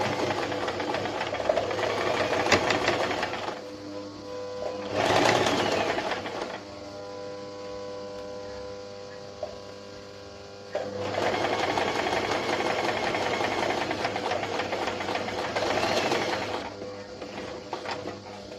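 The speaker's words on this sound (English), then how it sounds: "So you go ahead and sew it all the way down." A sewing machine stitches a double welt pocket on a notched collar jacket, running in long buzzing bursts with a steady mechanical whir, pausing quietly around the middle before starting up again, close and fairly loud.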